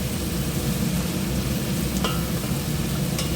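Onion and green chilli frying in a cooker, a dense, steady close-up sizzle with a couple of faint clinks.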